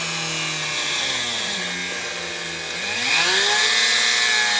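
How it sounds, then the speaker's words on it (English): A Dremel rotary tool cutting into a broken plastic ABS sensor on a 2005 Jeep Grand Cherokee whines steadily and dips in pitch under load, then rises and grows louder, close and alone. "take the Dremel and angle it in at the same angle as the broken off ABS sensor."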